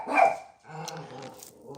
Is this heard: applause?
no